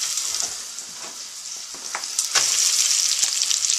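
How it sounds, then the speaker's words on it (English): Onion dropped into hot oil with toasted cumin seeds sizzles in a steady, close frying hiss that swells louder in the second half, with a few small crackles and stirring clicks. "Listen to that sizzle."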